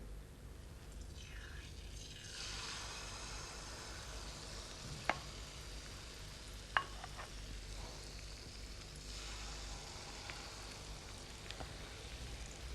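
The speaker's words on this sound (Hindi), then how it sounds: "जो घी है जब वो थोड़ा गर्म हो जाए तो उसके बाद ये बैटर को हम डालेंगे" Faint, steady sizzle of batter frying in hot ghee, a low broadband hiss running throughout with a few sharp ticks and pops standing out.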